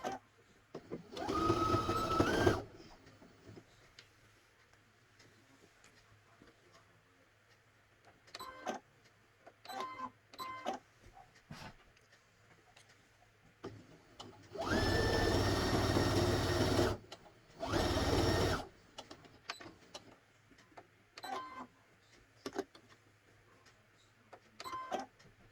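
A sewing machine stitching worn-out winter socks runs in short whirring bursts of a few seconds each, separated by quiet pauses with small clicks and handling noises, close and fairly loud.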